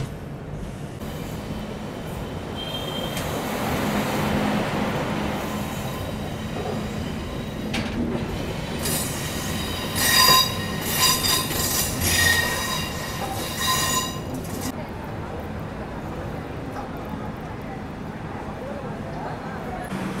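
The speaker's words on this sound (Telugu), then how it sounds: "ఈ లోకో మనకైతే ఇప్పుడు బ్యాక్లో వచ్చి అటాచ్ అవుతుంది" A WAP7 electric locomotive rolls up to couple at the rear of an express train. Loud, shrill wheel squeals rise and fade over a low rail rumble and a few clanks, with talk heard at times.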